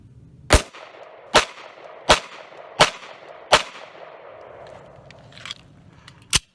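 Six sharp gunshots fired almost point blank into a bulletproof backpack plate set against a dirt mound outdoors, loud evenly spaced cracks roughly every second with short decays, the last coming after a longer pause.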